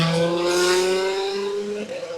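A WRC rally car at Rally Chile BíoBío pulls away toward the stage, its engine note rising steadily in pitch through a gear as it accelerates, close and loud with a sustained tonal drone.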